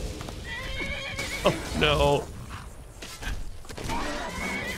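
A horse whinnies loudly in the Skyrim video game, a rising then falling neigh with clip-clop hoofbeats and creaking gear around it, while someone talks over parts of it.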